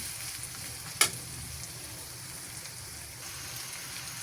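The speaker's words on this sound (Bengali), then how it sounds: "ভালোভাবে নেড়ে চেড়ে এবার আমি বাকি মশলাগুলো দেবো।" Pangas fish with spices cooking in a pan, a steady soft sizzle with a single sharp utensil knock early on, faint and continuous.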